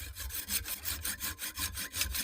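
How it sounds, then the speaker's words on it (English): A hacksaw saws steadily through a seized nut, each forward and back stroke making a rasping, rhythmic scrape, loud and close with no talk. "we're going to keep going with the hacksaw until we've got nothing left or something happens"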